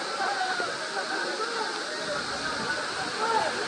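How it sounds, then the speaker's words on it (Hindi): Water splashes and patters steadily at the Gavli Dev waterfall near Mumbai, a dense continuous hiss of falling and dripping water close by, with crowd chatter faintly under it. "पीछे भी पानी टपक रहा है,"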